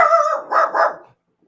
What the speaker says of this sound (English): There's a dog fight out there.